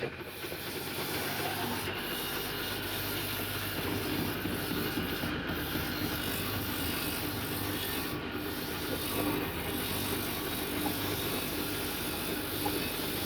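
Two bamboo skewer-making machines run together in a workshop in Kediri, East Java, giving a steady, continuous abrasive rubbing and grinding drone with a faint high whine and no voices.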